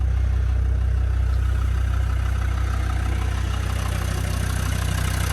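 A Land Rover Defender 90 TD5 county station wagon's diesel engine idles steadily up close, a deep continuous rumble with faint clatter and no talking, on a high-mileage engine just back from a run.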